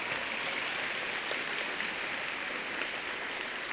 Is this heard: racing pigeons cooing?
no